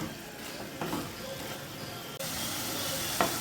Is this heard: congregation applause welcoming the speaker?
no